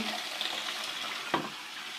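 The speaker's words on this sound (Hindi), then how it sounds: "तो अब हम इसमें डाल देते हैं चने ग्रेवी के साथ ही" Chickpeas in gravy hitting a pan of frying masala sizzle steadily, a close, even hiss with a brief splash or clatter partway through.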